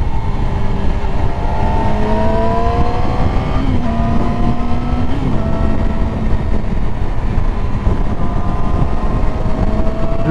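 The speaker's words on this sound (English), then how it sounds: "Just rolling in and out of the throttle so it gets those piston rings nice and seated" New motorcycle engine during break-in, rolling on and off the throttle while riding along a road; a steady loud drone with rising and falling engine tones over constant wind and road noise, no talking.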